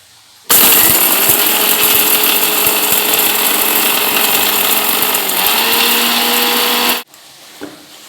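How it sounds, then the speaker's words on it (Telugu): A mixer grinder grinding spice powder whirs loudly and steadily for about six seconds, then cuts off abruptly, followed by a faint clatter. "మిక్సీ పెట్టుకున్నాం కదా ఆ పౌడర్ని"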